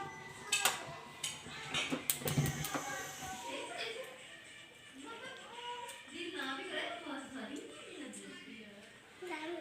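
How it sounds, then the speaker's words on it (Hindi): Sindhi biryani spooned from the pot onto a serving dish gives a few close metal clinks and scrapes at the start, then a person talks over faint utensil noise. "अब मैं इस बिरयानी को निकालूंगी डिश में और डिश आउट करके आपको दिखाऊंगी"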